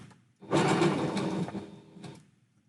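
A sewing machine stitching a lining seam runs in a short burst of about two seconds, a fast whirring mechanical chatter that starts abruptly, then slows and stops, close and fairly loud with no talking.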